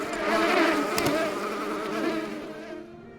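Bees buzzing in the video game Book of Hours, a dense close droning hum that swells and wavers steadily for a few seconds, heard alone.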